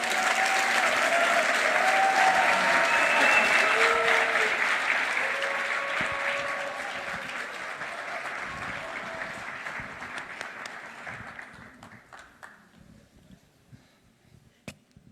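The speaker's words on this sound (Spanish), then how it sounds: "Un fuerte aplauso, por favor." An audience at an Ibero-American congress for life and family gives a long round of applause, dense and sustained at first, then thinning into scattered claps and a few cries as it dies away.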